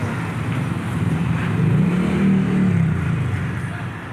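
A small motorcycle engine revs steadily nearby, its rough drone swelling in the middle and then easing off, with no speech over it.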